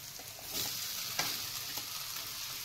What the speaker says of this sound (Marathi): मग आता हे बटाटे घालून घेते मी